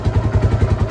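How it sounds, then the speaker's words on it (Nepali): A motorbike engine running close by, loud and low with a quick, even thumping pulse through the short moment. "आई गट इट फाइनली मेरो बाइक स्टार्ट भइसक्यो."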